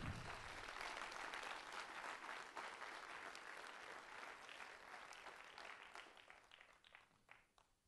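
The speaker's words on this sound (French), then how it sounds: "Et Lisa, il va falloir l'applaudir fort" Crowd applause at the closing session of a rural university gathering in Quebec, a dense burst of clapping that starts full and gradually thins out toward the end.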